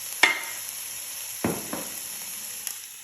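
Food sizzles softly in olive oil in a covered pan, a low steady hiss broken by a few sharp clanks of a lid and utensil against the pan.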